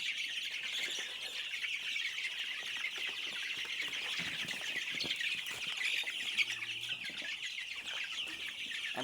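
Broiler chickens cluck and squawk continuously on a poultry farm, a dense, steady flock chorus with no talk.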